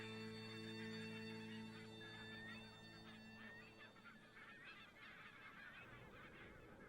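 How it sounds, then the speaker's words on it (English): Barnacle geese from Greenland honk at a wintering site, a flock calling in scattered overlapping honks at moderate distance over a steady low background hum. "All the barnacle geese from Greenland spend the winter here."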